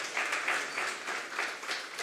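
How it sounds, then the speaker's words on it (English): An awards ceremony audience gives a steady round of applause, a dense patter of many hands clapping at moderate distance, fairly soft and continuous without talk. "Kindly give Mr. Achoda a round of applause"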